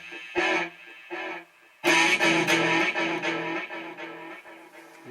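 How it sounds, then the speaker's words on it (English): Electric guitar run through a Digitech RP90 effects unit with a long delay setting, each plucked note or chord followed by spaced echo repeats that trail off, loud and alone with no talking. "longer pauses, it would sound like this."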